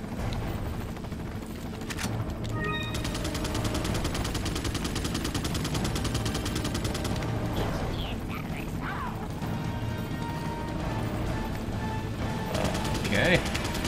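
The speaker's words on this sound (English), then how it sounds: "he's just shooting for the sake of shooting" Mike's gunfire in Resident Evil 4, rapid, continuous bursts of automatic fire sustained throughout, mixed with game music and effects, with a voice briefly audible.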